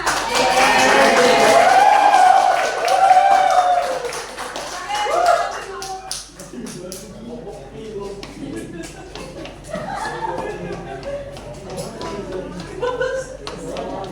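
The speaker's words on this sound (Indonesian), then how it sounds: "Dan beri tepuk tangan dulu untuk kita semua." Students in a microteaching class break into loud applause mixed with cheering voices, then it thins to scattered claps under chatter and talking.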